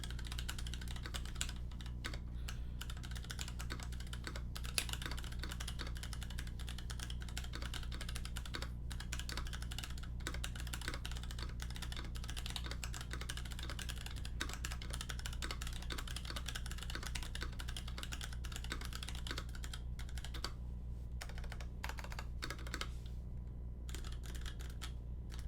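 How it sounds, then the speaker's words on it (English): Continuous typing on a custom E6V2 mechanical keyboard fitted with Box Novelties switches, a steady run of close, fairly quiet key clacks over low background hum with no talking. "we'll give you guys a bit of a sound typing test"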